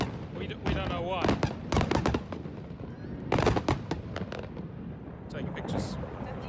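Fireworks burst suddenly and unexpectedly in a series of sharp, loud cracks and booms, some clustered rapidly and others spaced apart, while voices and background chatter continue beneath and between the explosions.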